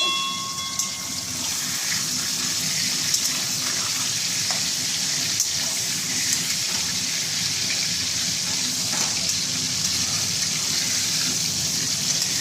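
Five large pieces of katla fish fry in hot oil for doi posto, giving a steady, close crackling sizzle that stays loud throughout with no voices.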